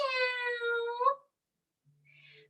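A person imitating a cat's meow in a gentle, drawn-out voice lasting about a second, close and soft, followed by silence and a faint brief sound.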